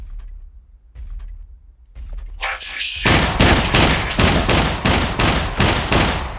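Gunfire in the video game SCUM: after a quiet stretch with a mechanical slide and some faint voice, a loud, rapid burst of repeated shots erupts at close range and continues steadily to the end.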